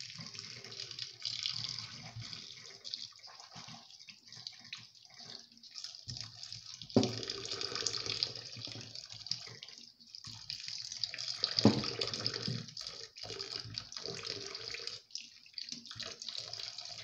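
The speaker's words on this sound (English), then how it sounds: "I'm just rinsing this" Wild, sour, edible indigenous fruit is rinsed under a running tap, with a steady close rush of water and shifting splashes as the fruit is turned in the stream.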